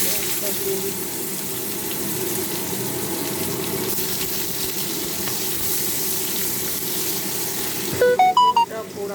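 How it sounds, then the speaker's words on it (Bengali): Onions frying in oil tempered with chili and bay leaf, a dense steady hiss and sizzle, close and fairly loud, with a brief burst of clinking near the end. "এবার তেলটাই লঙ্কা তেজপাতা ফোড়ন দিলাম, পেঁয়াজটা দিয়ে দিচ্ছি।"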